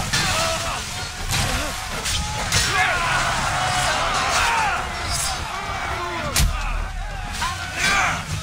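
Naval cannon fire in the ship-battle game Assassin's Creed Odyssey, a heavy continuous barrage of booms and splashes into water with crashing impacts, under loud game noise and commentary.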